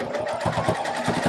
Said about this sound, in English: I'm sewing on